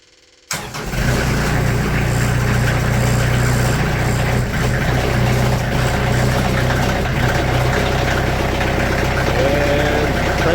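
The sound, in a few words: sawmill engine cold-cranked and starting, idling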